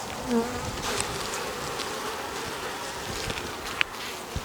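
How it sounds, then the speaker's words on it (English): Worker honey bees at an open hive make a steady, close buzzing hum, with a few louder passes as single bees fly near. "are worker bees, female bees. So their job is to help produce honey for the hive."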